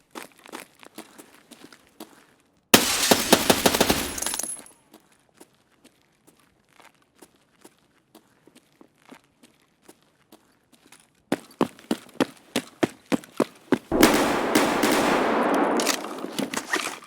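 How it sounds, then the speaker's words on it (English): Enemy gunfire in Escape from Tarkov on the Shoreline map, rounds fired at a nearby building: a dense automatic burst, then scattered single cracks and short volleys, then another long sustained burst, fairly loud and with no talking. "they're just firing random rounds into the building we just left"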